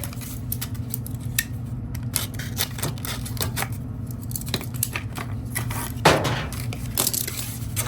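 Scissors snipping through a piece of foil tape during a gas dryer hookup, a series of crisp clicks and cuts over a steady low hum, with a louder crinkling snip near the end.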